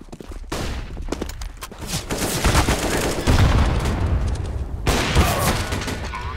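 AK rifle fire in Counter-Strike: Global Offensive, a dense fusillade of rapid gunshots with heavy booms that hold steady and loud for several seconds, with a short lull near the end before a second burst.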